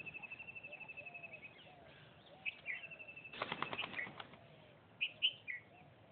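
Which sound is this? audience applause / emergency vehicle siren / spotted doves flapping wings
spotted doves flapping wings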